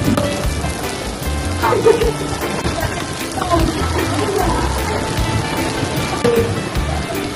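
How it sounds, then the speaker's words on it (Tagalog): Steady rain pours down in Baguio City, a dense hiss of drops pattering on surfaces with faint voices underneath. "Walang tigil yung ulan."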